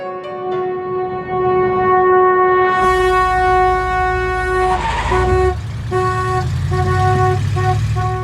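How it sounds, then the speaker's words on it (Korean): A car horn sounds in a film scene as a long, sustained, steady blare, held for several seconds while low rumbling tones and music swell beneath it. "이전 영상에서 이야기했던 경적이 다시 한번 등장합니다"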